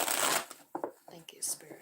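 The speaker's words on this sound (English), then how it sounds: "I just need a good couple shuffles" Tarot cards shuffled by hand give a short, dense riffling rustle at the start, followed by a voice talking quietly over occasional soft card sounds.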